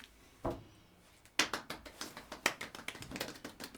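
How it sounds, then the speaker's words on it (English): A few small, light hand claps in a quiet room, sharp isolated taps with short gaps, then a quicker run of soft claps, close and fairly faint. "Little clap"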